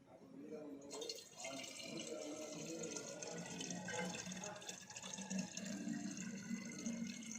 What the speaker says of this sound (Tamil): ஸோ ஃபஸ்ட்டு வந்துட்டு இதில் கொஞ்சம் தண்ணி ஊற்றிக்கலாம்.